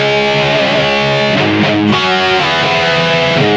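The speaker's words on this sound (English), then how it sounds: "This is the reverb I have." Electric guitar played through a BOSS eBand JS amp with hall reverb, a loud distorted sustained chord with a long wash of reverb tail, heard alone without talking.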